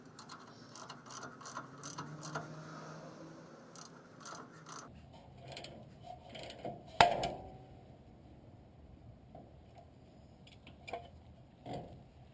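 Ball joint puller being tightened on a car's tie rod to free it: a run of sharp ratchet clicks, then quieter ones after a single loud crack, close and alone without talk.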